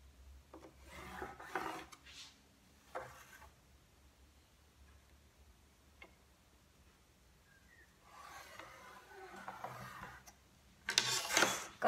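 A pen or pencil draws lines on paper for a sewing pattern, making faint rasping strokes in several short bursts separated by quiet pauses.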